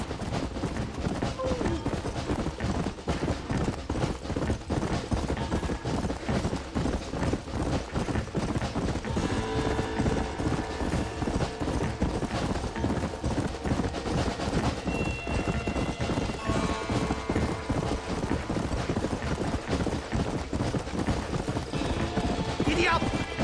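Hooves beat in fast, steady galloping rhythm throughout, as a horse runs in the Red Dead video game, with busy game ambience and occasional voices layered over the hoofbeats.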